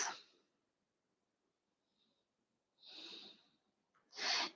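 Slow, full breaths during a slow flow yoga session, a soft exhale fading at the start, then two deeper audible breaths a second apart, quiet and close.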